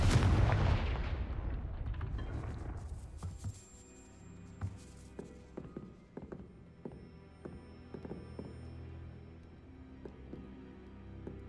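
A Confringo blasting spell explodes in Hogwarts Legacy with a loud, close blast that decays into rumbling debris, followed by scattered thuds and small knocks as rubble settles.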